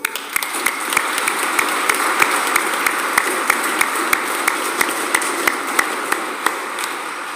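A church congregation applauds steadily during a solemn feast-day liturgy, with sharp individual claps in an irregular, near-rhythmic patter over a continuous wash of room reverberation.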